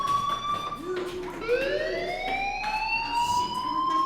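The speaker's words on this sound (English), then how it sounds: "Hey, do you hear that fire alarm?" A fire alarm in the video game Life is Strange, a loud electronic tone rising and sliding in pitch, ringing continuously over a muffled background.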